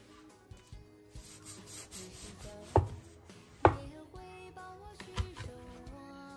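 A knife slices through crispy, golden pan-fried sweet potato layered flatbread on a cutting board, giving a few sharp crunching cuts over light rubbing and scraping, fairly close and moderately loud.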